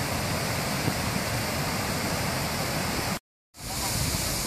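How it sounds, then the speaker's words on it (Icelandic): Waterfalls in the Ófærugil gorge in Iceland roar with a dense, steady rushing of water, loud and continuous, broken once by a brief silent gap. "Þetta eru gríðarlega fallegir fossar."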